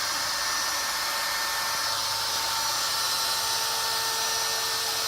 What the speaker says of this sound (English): get it set up for the CNC machine, and cut it out